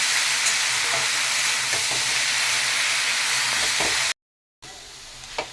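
Beto greens stir-frying with garlic in a pan, a steady close sizzle with scraping stirs, broken by a brief dropout near the end before the frying hiss resumes.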